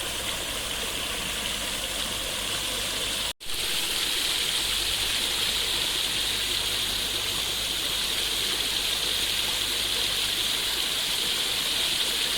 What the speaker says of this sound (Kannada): ಇದೊಂಥರ ಫಾಲ್ಸ್ ಚೆನ್ನಾಗಿದೆ. ಚಿಕ್ಕ ಫಾಲ್ಸು, ಈಗ ಹುಟ್ಟಿರೋ ಫಾಲ್ಸ್ ಥರ ಇದೆ.